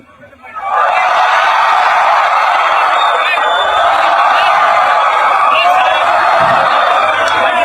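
A large student festival crowd shouts loudly together, the roar swelling up quickly and holding steady at full volume.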